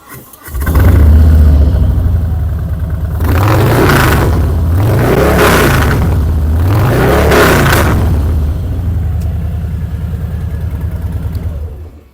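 A 2022 Harley-Davidson Fat Bob 114 with a full TBR exhaust, loud and close, revving in three or four deep throaty swells over a rumbling idle, with no talk.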